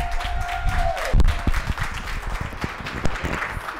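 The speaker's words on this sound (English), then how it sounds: "Let's give her another round of applause," An audience claps for an honoree at a Women of Achievement awards ceremony. A steady tone fades out and a burst of clapping follows. The clapping carries on as a moderate, continuous patter to the end.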